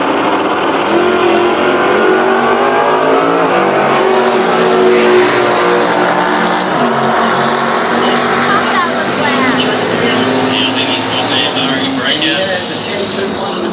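Drag racing cars, one with a 312 cubic inch engine, roar loudly and continuously at the Winternats, a dense engine blare that holds and shifts in pitch as they launch, with a commentator talking over it.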